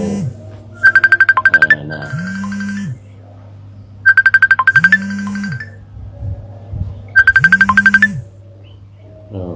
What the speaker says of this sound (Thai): มีสายเข้ามาต้องขออภัย